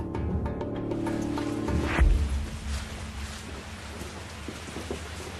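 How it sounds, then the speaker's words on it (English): Steady rain pours in a dense, continuous hiss, with a low rumble of thunder rolling through near the middle and no voices. "Then it started to rain."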